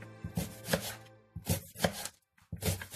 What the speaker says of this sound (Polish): Cebulkę ja kroję w takie paseczki.